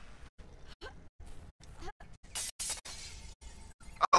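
A glass window shatters in the Dead Island video game, a sharp crashing burst of breaking glass mid-clip amid choppy game sounds, with brief clinking debris afterward and no talk.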